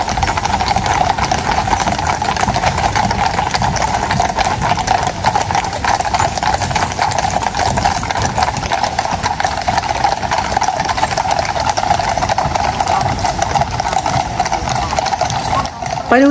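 Horses' hooves clip-clop steadily through the Horse Guards parade near Buckingham Palace in London, a continuous outdoor clatter layered with crowd murmur and scattered voices throughout.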